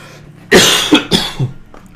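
A person coughs several times in a quick burst of three or four harsh, close hacks with a throaty rasp, loud against a quiet background.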